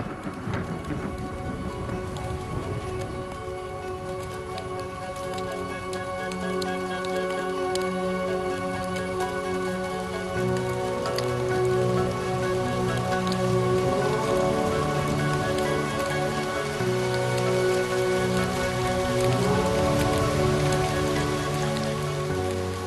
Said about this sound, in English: This is more than just rain, more than drinking water.